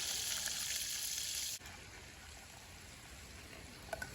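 Food sizzles in a pan over a fire partway through cooking on one side: a steady, fairly loud frying hiss that drops sharply after a moment, then keeps crackling more softly with a couple of small pops near the end.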